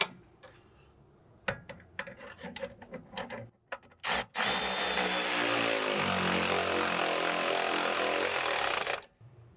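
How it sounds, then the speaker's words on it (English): An electric ratchet snugs a bolt on a rear sway bar drop link of a Porsche Cayman, with a few ticking clicks and handling noises before a steady, loud mechanical whirr running for about five seconds, close by. "go with an extension this time and the electric ratchet to snug that up"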